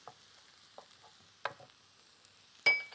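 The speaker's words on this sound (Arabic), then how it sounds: "ها هو ذبل باش نزيدو عليه الثوم" Garlic goes into wilted onions frying in a pan, with soft scattered sizzles and a few small clatters, ending in a sharper louder clack near the finish; quiet overall and no talk.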